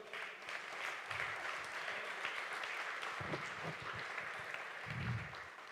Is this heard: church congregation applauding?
yes